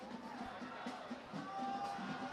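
Noisy crowd of Strake Jesuit fans at a high school football game against Fulshear, a distant steady roar with faint cheering and chanting under it.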